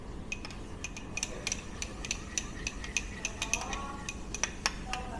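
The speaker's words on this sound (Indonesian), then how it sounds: "Kemudian kita aduk dulu." A spoon stirs lime juice and salt together in a bowl, with a run of light, irregular clinks and taps against the bowl over a quiet background.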